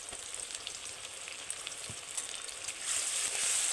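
Ginger-garlic paste and onion frying in oil, a continuous close crackling sizzle that swells louder toward the end, with light stirring and no talk.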